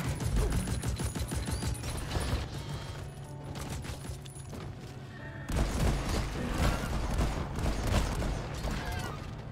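Rapid automatic weapon fire from a shotgun-style gun in the video game Deep Rock Galactic, dense and continuous for nearly ten seconds with a brief dip midway, mechanical clanks and booms mixed into the steady barrage.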